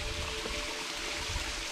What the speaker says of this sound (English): The waterfall's coming right down to right there from there.